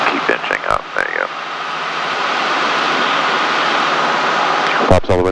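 Cessna 152 light aircraft engine running at reduced power, a steady broadband drone that is loud and near, with an instructor's voice heard over it at the start and again at the end.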